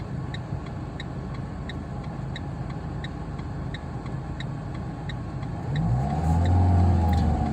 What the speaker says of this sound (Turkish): arabalar motorlar ışıklarda tekrar geçmeye devam ediyor